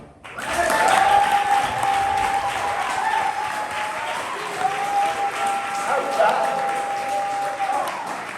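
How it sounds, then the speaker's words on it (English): Loud, sustained applause and cheering from a poetry slam audience for a poet, holding strong throughout with a few whoops and voices mixed into the crowd noise. "Applaud the poet. Keep that applause going"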